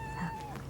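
A short, faint meow from a kitten in a home with two cats, quiet and brief and set against a low background hum.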